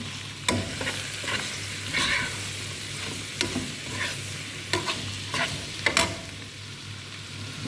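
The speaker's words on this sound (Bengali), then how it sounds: "তাই আমি সব ধরনের মরিচ দিয়ে দিচ্ছি এখানে, এই যে।" Chilies stir-fried in a pan, a continuous close sizzle with repeated spatula scrapes and knocks at irregular intervals, with a low steady hum beneath.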